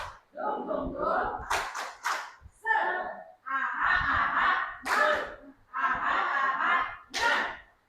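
A group of teachers performs a rhythmic clapping chant, the 'tepuk semangat' cheer: bursts of chanted voices alternate with sharp, crisp claps in short bouts separated by pauses, fairly close.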